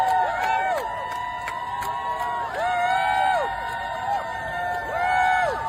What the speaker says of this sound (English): I want us all to cheer for them right now